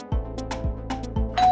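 A doorbell rings close by, its chime repeating in several quick bright strikes with a ringing tail.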